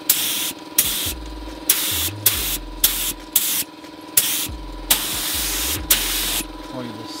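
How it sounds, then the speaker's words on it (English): An air spray gun paints a car's quarter panel in a shop. It makes repeated hissing bursts of about half a second to a second each, with short gaps between them, loud and close against a low background hum. "Now we're spraying the quarter panel that we did here."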